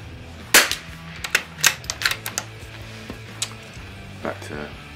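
A Christensen Arms Ranger carbon fibre rifle firing outdoors at a range: one loud, close crack and several sharp, echoing reports from other shots nearby, with faint voices in the background.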